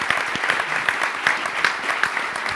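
A forum audience at the Michigan Chronicle's Pancakes & Politics event claps for the newspaper's staff, with brisk, individually audible claps in a close, lively round that stays steady throughout.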